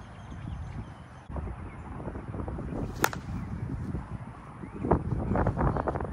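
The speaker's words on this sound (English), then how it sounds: "the wind's blowing a lot." Gusty wind buffets the microphone outdoors at a cricket match, a continuous rumbling roar that swells and surges with a sharp crack partway through.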